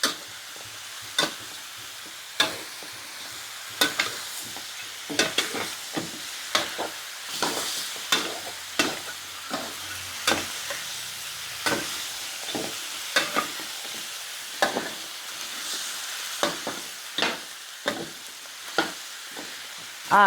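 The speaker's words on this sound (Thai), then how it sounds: "คั่ว คั่วในกระทะนี่แหละค่ะ คั่วให้ไม่ให้ได้กลิ่นไหม้นิดนึง" Ingredients for pork leg stew are dry-roasted in a wok, the spatula scraping and tapping the pan in irregular repeated strikes over a faint sizzle, close and fairly loud, without talk.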